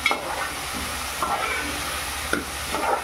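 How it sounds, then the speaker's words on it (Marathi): Tomato and a chilli, coriander, garlic and ginger paste cooking in a pan for a fish curry, a soft steady sizzle with a few light stirring scrapes spaced through it. "याची पेस्ट टाकली आहे, टोमॅटो टाकला। ते आता जरा मी शिजून घेते।"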